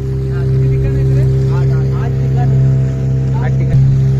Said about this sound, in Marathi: आता आमची बोट निघालेली आहे.